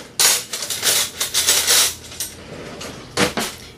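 A metal spoon scoops eyeshadow and petroleum jelly on a makeup palette, making a quick run of close, bright clinks and scrapes followed by two more taps, with no talk.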